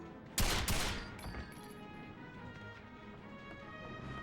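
An unsilenced UMP firing in the PS2 game 007: Quantum of Solace, a short sharp burst of a few loud close shots near the start, then fading into quieter ringing ambience.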